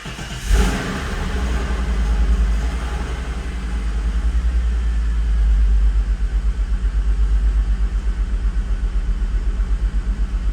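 A VR6 engine cranks and catches with a loud burst in a workshop, then settles into a deep, steady, rhythmically pulsing idle close by, with no talking.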